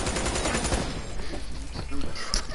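Gunfire in the video game Black Ops 3, including sniper and pistol shots, heard as a burst of rapid shots followed by scattered, sharper reports, close and fairly loud, with a voice talking over the action.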